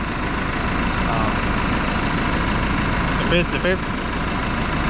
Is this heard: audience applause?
no